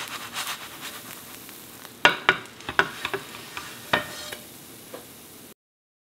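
A kale pancake crisps in a pan with a soft, steady sizzle, broken by several sharp scraping and tapping hits from a utensil against the pan in the middle.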